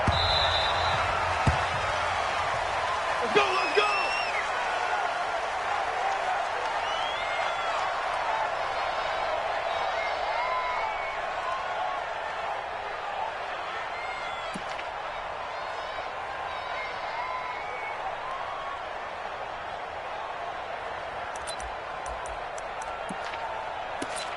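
Stadium crowd at a Los Angeles Rams vs Seattle Seahawks football video game, a steady roaring wash of cheering that stays loud throughout, with a commentator talking over it.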